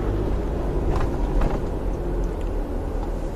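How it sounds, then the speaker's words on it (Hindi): Steady low engine rumble of a 2015 Toyota Innova idling, heard from inside the cabin, a constant droning hum with no talking. "बाकी इंजन की साउंड की बात करें दोस्तों तो आपको कैबिन के अंदर काफी इंजन की साउंड महसूस होगी।"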